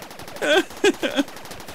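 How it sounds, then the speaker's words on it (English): Short burst of gunfire in Rimworld, a few quick sharp shots in rapid succession, close and fairly loud, with little else around it. "That's what you get for shooting the people who are trying to shoot the mechanoid."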